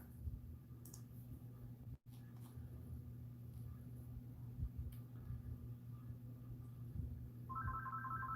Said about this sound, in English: Oops, I forgot to silence the phones.